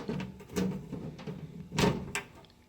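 The plastic door of a food dehydrator full of kale trays is fitted into place, giving a few soft knocks and scrapes, with two firmer clicks about a second apart, close and fairly quiet.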